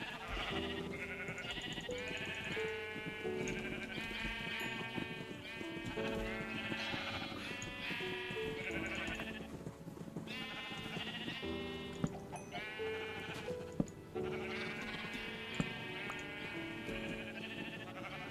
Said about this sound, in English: Being mauled by sheep.